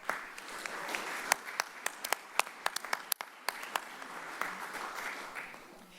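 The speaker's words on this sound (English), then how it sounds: "So let's give him one more round of applause" Applause at a Half Moon Bay city council meeting: a room of hands clapping with sharp individual claps standing out, steady for several seconds and thinning near the end.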